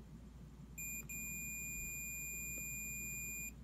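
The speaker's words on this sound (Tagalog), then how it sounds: "Ang continuity ay pag pagdikit mo ko na lang probe," A digital multimeter in continuity mode gives a steady high-pitched beep as its probes touch, a brief break near the start then a continuous tone lasting nearly three seconds over low background hum.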